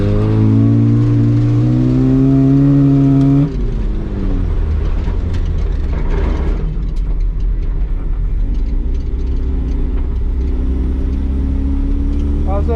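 A car laps a race track in a South African time attack event, its engine roaring loudly, then a sharp downshift drops the pitch before it pulls hard again at close range, with no talk.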